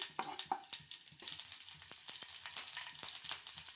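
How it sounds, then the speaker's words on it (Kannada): Mustard seeds, cumin and chopped green chillies sizzle and crackle in hot oil for egg puff filling, a close, busy frying hiss scattered with sharp little pops and spits throughout. "ಸ್ವಲ್ಪ ಒಂದಿಷ್ಟು ಸಾಸಿವೆ ಹಾಕೋತಿದ್ದೀನಿ ನಾನು"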